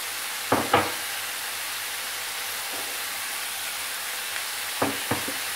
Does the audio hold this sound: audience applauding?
no